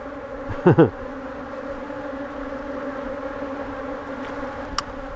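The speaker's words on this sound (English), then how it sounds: "there is a wall of pissed off bees" Angry honey bees swarm around a hive while virgin queens are released, a constant buzzing drone with one bee sweeping loudly past close by early on.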